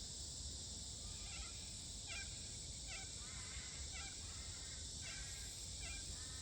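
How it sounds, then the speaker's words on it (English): Harsh cawing calls repeat roughly once a second at a distance, over a steady hiss of wind or ambient noise. "You can hear a bunch of birds."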